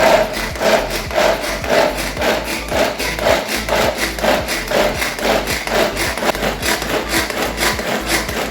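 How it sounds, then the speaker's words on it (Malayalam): A food chopper chopping snack ingredients in a home kitchen, making a close, rhythmic run of quick rasping strokes, roughly two per second, with no talking. "ഇതെല്ലാം കൂടിയിട്ട് ചോപ്പറിലിട്ടിട്ടൊന്ന് ചോപ്പ് ചെയ്യട്ടെ."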